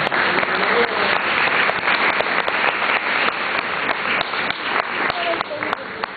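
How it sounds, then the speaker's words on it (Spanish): A church congregation claps loudly in praise during a service, a close, dense burst of many hands with rapid rhythmic beats running the full six seconds, with some voices mixed into the noise. "dale un fuerte aplauso en alabanza al Señor"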